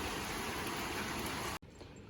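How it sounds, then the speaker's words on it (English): Rain falling outside on a rainy day, a steady dense hiss that cuts off abruptly near the end, leaving a quieter background. "do you want to go out in the rain?"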